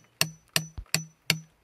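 A hammer drives a chisel into sun-baked, concrete-hard sediment around a stone at an archaeological excavation, with five sharp metallic strikes in a steady rhythm, close and clear.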